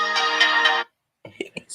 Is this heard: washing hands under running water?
no